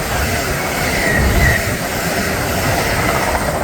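Avanti train passing through Berkhamsted station at speed, a loud, close rushing roar of wheels and rails with a brief faint squeal, filling the whole stretch.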